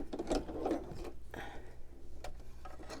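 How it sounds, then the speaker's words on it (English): An embroidery sewing machine being rethreaded gives off soft mechanical clicks and ratcheting ticks close by, a handful of small taps and rustles with brief faint talk. "I have to rethread"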